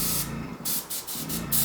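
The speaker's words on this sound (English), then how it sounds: "I'm going to test the consistency of the spray" Airbrush spraying thin, watery paint in a color test, several short hissing bursts separated by brief pauses, close and steady.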